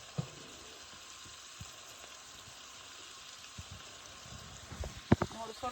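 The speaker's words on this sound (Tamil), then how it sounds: "வெங்காயம் வதங்கி கொண்டிருக்கு." Onions and green chilies sauté gently in a pan with a faint, steady sizzle, broken by a few clinks and stirring knocks near the end.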